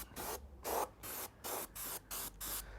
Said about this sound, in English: And I'm spraying from some distance back just to give the cone of the paint spray enough space to spread out.